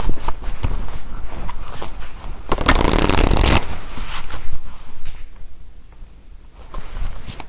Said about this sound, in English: Okay, I just shuffle these,